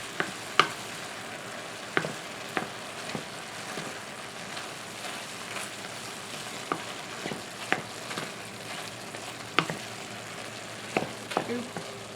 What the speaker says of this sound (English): We're going to let those seasonings brown for a couple of minutes